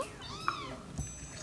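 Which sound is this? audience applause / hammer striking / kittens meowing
kittens meowing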